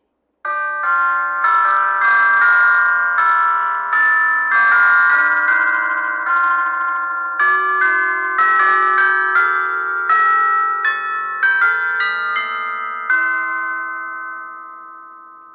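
Orchestral chimes, tubular bells struck in a slow melodic sequence, rich ringing tones overlapping and sustaining loudly with no voices, the last notes decaying out.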